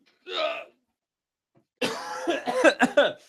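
A short single cough, then a burst of rough throat clearing and coughing about a second later, close and dry in a quiet room.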